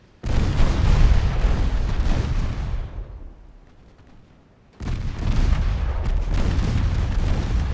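Naval guns and torpedoes fire in the video game Ultimate Admiral Dreadnoughts: loud, sustained booming barrages that fade to a low rumble, then a fresh heavy volley bursts back in.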